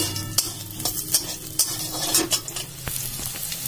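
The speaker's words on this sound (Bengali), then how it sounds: "ভালো করে নেড়ে চেড়ে নেবো।" Gram flour fritters stirred in a hot pan with chilli, a spatula scraping and clacking in a steady rhythm over continuous frying sizzle, close and clear with no voices.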